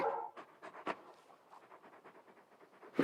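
A big dog pants in the Final Fantasy 16 video game, a steady run of quick, breathy huffs close by, with a sharper burst at the end.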